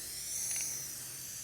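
A Rain Bird above-ground irrigation sprinkler sprays water in a steady, even hiss that holds for the whole moment, with no voices.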